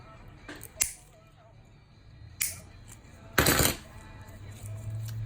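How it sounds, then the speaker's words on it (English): Lower 1622 stainless steel orthodontic wire is cut with a clipper, giving three sharp metallic snips spaced a second or more apart, the last the loudest, close and clear over quiet background. "And wire is a little long, so we'll cut it."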